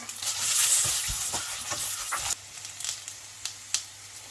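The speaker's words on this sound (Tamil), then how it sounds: "இது எல்லாத்தையும் மீடியம் ஃப்ளேமில் வச்சுட்டு இந்த மாதிரி வதக்கிக்கலாம்." Garlic, cumin, fennel and poppy seeds sauté in a pan over a medium flame, a close sizzle with spatula scrapes and taps that fades to a quieter crackle partway through.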